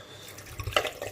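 Red wine, a beef steak Shiraz Montepulciano, poured into a stew pot for a beef hotpot: a brief, close liquid glug and splash that swells near the end, with no talking.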